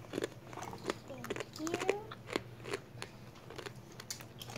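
Quiet, close crunching as crisp chips are bitten and chewed in irregular bursts, with faint background noise.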